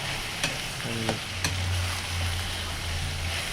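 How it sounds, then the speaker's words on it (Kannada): Chicken pieces roasting with browned onions in oil give off a loud, steady sizzle with occasional clicks of a spoon stirring in the pan, close up and with no voices. "ಎಲ್ಲ ಮಿಕ್ಸ್ ಮಾಡಿಕೊಂಡು ಎಣ್ಣೆಯಲ್ಲಿ ರೋಸ್ಟ್ ಮಾಡ್ಕೊಳ್ಳೋಣ"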